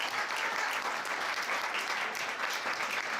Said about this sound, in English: Will you give them a big round of applause?